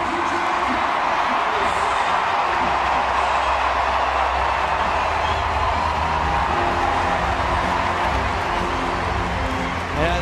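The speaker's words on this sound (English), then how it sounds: "this big crowd here in the Olympic Stadium, hoping he can give them something to cheer" A big crowd roars and cheers steadily at the Olympic Stadium in London during a Diamond League athletics meeting, a dense, continuous wash of sound from far and near with a voice talking over it.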